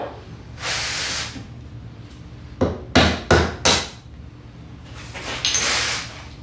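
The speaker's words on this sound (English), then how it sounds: "Let's get the mallet." A wooden mallet strikes a chisel into wood four times in a quick, loud, irregular series at close range, with softer scraping and hissing before and after.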